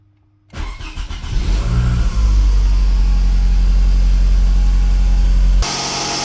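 Close and loud, a Toyota car engine cranks, fires and then idles steadily with a deep, even drone, ending abruptly with no voices heard.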